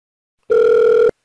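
A single short electronic telephone ring tone, steady and loud, starting abruptly and cutting off after about half a second in otherwise silent surroundings.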